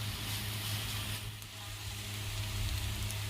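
Small dried fish fry in a pan over a low gas flame, a steady soft sizzle close by, with a low background hum.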